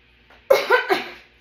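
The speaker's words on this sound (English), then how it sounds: "Just a second, I'm gonna cough." A single throaty cough in two or three quick bursts, close and fairly loud, fading off with no talking.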